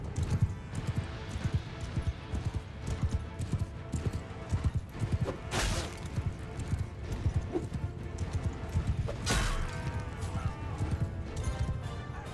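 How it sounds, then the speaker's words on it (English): Horses galloping in a battle in the video game Mount & Blade II: Bannerlord, a steady dense clatter of hooves mixed with crashes and battle noise, continuous and busy throughout. "Horses get involved."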